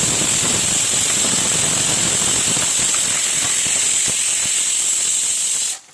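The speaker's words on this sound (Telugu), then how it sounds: "ఇట్లా మంచిగా వేగనివ్వండి" Sliced onions and green chillies sizzling in hot oil in a pan, a loud continuous frying hiss held close for several seconds before cutting off abruptly.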